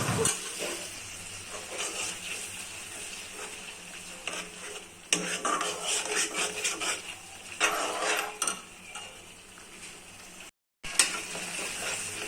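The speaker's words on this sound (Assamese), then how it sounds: "এতিয়া পিচি থোৱা মছলাখিনি দি দিছোঁ আৰু এয়া সকলোখিনি দি অলপ দেৰি লৰাই থাকিম" Ground spice masala being stirred and fried in a pan for palak paneer, a steady close sizzle with scraping stirs of a utensil against the pan and a brief silent gap near the end.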